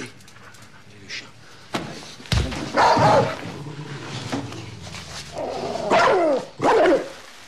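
A dog barks and yips in short loud bursts indoors, with whimpering sounds and a door-like slam, as a person speaks French between the barks.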